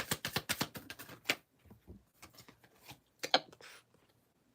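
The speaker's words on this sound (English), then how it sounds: "Y'all hear me shuffle? I know you hear me shuffle." Tarot cards being shuffled by hand, giving a quick run of soft papery riffles and flutters in short bursts with pauses, close and fairly quiet.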